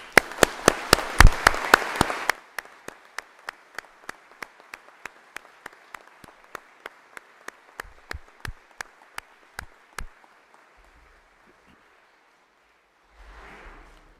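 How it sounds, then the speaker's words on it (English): Applause for a nautical college graduating class starts as a dense burst for about two seconds, then thins into scattered single claps that slow and fade out, followed by near-silence and a faint rustle. "giving them a very loud round of applause"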